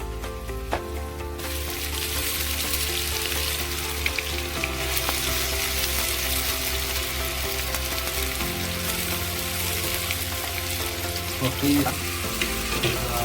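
Ground desi masala of onion, garlic, green chilli and cumin fries in a kadhai with a loud, close, continuous sizzle, plus occasional stirring scrapes and no talking.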